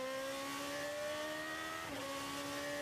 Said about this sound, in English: Fantastic engine sound. Just wanted to let you listen in there as he approaches the first chicane.